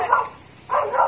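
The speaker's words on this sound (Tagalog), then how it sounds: "Kaninong aso yan?" A dog on a rural property barks in two short bursts separated by a brief pause, close by and fairly loud.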